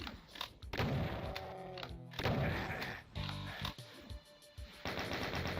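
Gunfire in the video game Fear Island, with distant chain gunners and carefully picked shots: loud, repeated bursts of shots and heavy thuds come in clusters over a continuous game soundscape.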